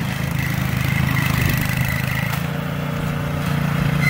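A homemade snow blower runs during a March snowstorm, its engine holding a steady, close, loud idle-like chug throughout, with no speech.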